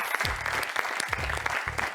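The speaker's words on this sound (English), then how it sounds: "Let's give a round of applause to St." Steady audience applause at a college quiz competition fills the clip, dense clapping from a sizable crowd with a few low bursts of voices or noise underneath.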